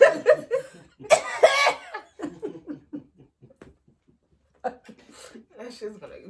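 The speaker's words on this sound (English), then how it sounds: "They make you bend over and cough." A person coughs in several harsh, clustered bursts up close, broken up by laughter and breathy chatter, then trailing into quieter murmurs.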